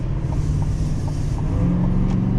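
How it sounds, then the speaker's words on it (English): Steady low engine drone from inside a 2024 GMC Sierra 2500HD Denali Ultimate diesel pickup under acceleration, a continuous loud rumble with faint ticking over it. "Go ahead and do one more acceleration test on this vehicle"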